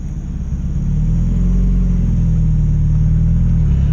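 A 2019 Mazda Miata pulls away in first gear, its engine rising from a low idle into a steady, close rumbling drone as it accelerates, with no talking over it.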